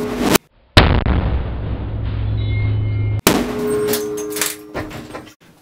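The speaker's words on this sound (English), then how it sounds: "We had a certain explosion there." A hydrogen explosion sets off a sharp, loud bang with a dropout after it, then a rumbling, rattling aftermath. Another abrupt crack follows, then scattered clatter and debris sounds fading out.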